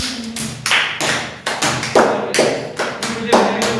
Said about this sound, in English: Clap for Harshita.